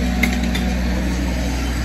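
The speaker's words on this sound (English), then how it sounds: "Sorry about the noise, council lawnmower." A council lawnmower runs nearby on a main street, giving a steady low engine drone with a faint mechanical rattle, moderately loud and continuous, no voices over it.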